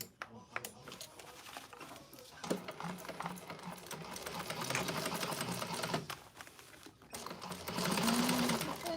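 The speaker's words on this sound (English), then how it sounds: "I'm ready to sew this now" A sewing machine stitches a handbag in a rapid mechanical chatter that runs in bursts and grows louder toward the end, with people talking quietly in a class setting.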